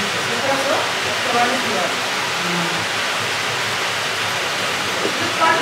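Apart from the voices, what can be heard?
water flowing at a 250-year-old water-powered flour mill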